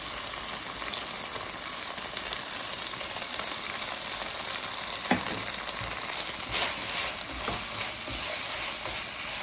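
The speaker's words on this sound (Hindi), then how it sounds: "शिमला मिर्च को भूनेंगे 5 मिनट के लिए।" Cubed bell pepper frying in a pan alongside cooked chicken, a steady dense sizzle and crackle running throughout at close range, with occasional stirring scrapes and pops.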